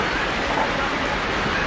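Sudden rain falling in Chandpur, a dense, even patter of drops on surfaces, steady and fairly close across the short stretch with no talking.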